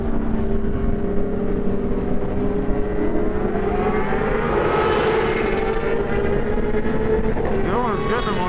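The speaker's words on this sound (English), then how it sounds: "hearing all these bikes at once sounds so good" A group of sport motorcycles, including a BMW M1000RR and a Kawasaki ZX-10R, rides together in Texas. Their engines give a loud, continuous roar with rising and falling revs, and voices can be heard under the noise.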